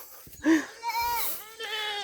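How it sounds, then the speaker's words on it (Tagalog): A blind goat on a farm gives a short, wavering bleat that rises and falls, close and clear. A person speaks around it. "Ito yung bulag naming kambing."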